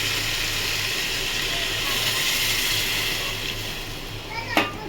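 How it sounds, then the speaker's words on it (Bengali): Water poured into a sizzling potato and pea curry, a steady loud hiss and steam roar filling the whole stretch, with a person speaking over it. "এবার আমি এই রান্নাটায় জল ঢেলে দেবো।"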